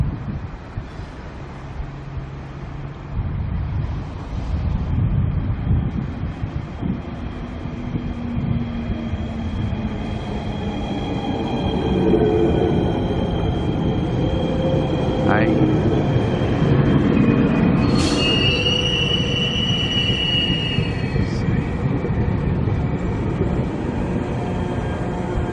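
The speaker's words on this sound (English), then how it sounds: "The tilt train from Rockhampton to Brisbane is now arriving in Coyle." A tilt train from Rockhampton to Brisbane rolls into a station, giving a steady low rumble of wheels and carriages with brief squeals and a rising hum toward the end. Moderately loud, with no talking.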